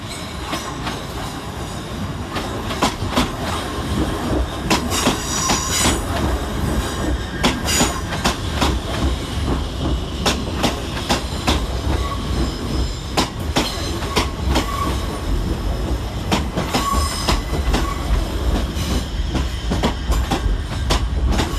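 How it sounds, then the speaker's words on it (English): A C2C Class 357 electric train snakes over the crossing at London's Fenchurch Street station, its wheels clicking and clattering rhythmically over the joints with occasional squeals, a continuous close rumble throughout. "Snaking over the crossing to terminate with a C2C service from Grays is 357 319"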